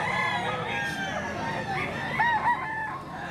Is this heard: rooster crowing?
yes